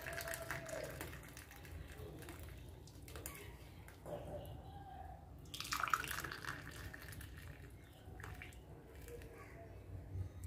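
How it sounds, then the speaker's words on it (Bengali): Tea made with milk being poured from a pan into cups: a faint liquid trickle with a few soft drips over a low steady background hum, with a slightly louder splash near the middle. "এখন আমি চা কাপে ঢেলে নিচ্ছি"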